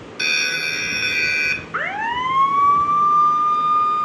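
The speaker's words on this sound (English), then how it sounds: "Can you hear the sound of the ambulance? This is a siren." An ambulance siren sounds alone at close range: a steady electronic tone cuts off, then a wailing tone sweeps upward and holds high and loud.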